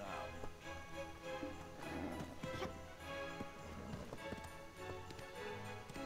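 A horse running in the MMORPG Black Desert Online, quick muffled hoofbeats thudding in a steady gallop under a dense game soundscape, fairly faint overall.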